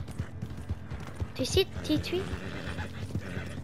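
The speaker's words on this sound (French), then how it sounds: "Mon cheval, il est fatigué, il a un problème musculateur." Horse hooves clip-clop beneath a video-game hunting scene, with a couple of sharp whinnies in the middle, mixed under someone talking in French.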